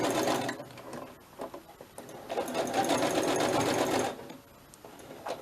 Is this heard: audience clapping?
no